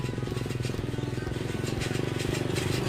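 Motorbikes hauling freshly harvested jackfruits putter past at close range, a steady, buzzing engine drone with a rapid pulsing rhythm running the whole time, no speech.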